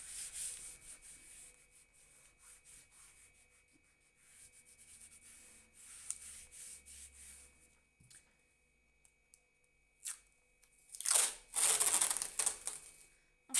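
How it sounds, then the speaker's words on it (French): Sticky tape pulled and pressed onto a cardboard booklet during a craft project: quiet rubbing and crinkling, then a loud, sharp rip of tape near the end, close up with no talking. "je vais venir mettre du scotch là."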